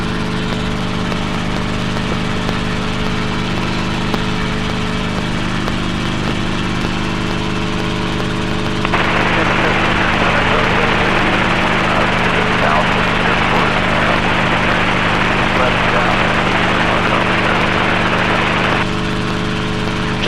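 A training helicopter's engine and rotor drone loudly and steadily while it climbs out after takeoff, with a brighter rushing layer swelling in the middle, as a pilot speaks over the radio.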